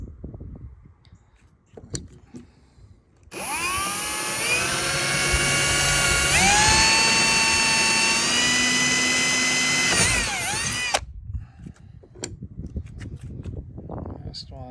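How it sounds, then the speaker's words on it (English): A power drill bores holes through a truck topper for a 4-inch port hole, a loud steady whine running about eight seconds with pitch dips as it bites, with quieter handling noise and talk before and after. "So just drilling a couple of holes through."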